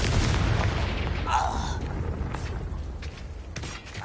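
Explosion of a Confringo blasting spell in Hogwarts Legacy, a deep boom followed by a fading rumble and a few scattered crackles, loud at first and then trailing off.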